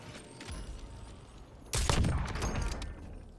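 Gunfire bursts in the shooter game Warzone, a quick volley of shots snapping in near the middle after quieter background game noise, fairly faint overall.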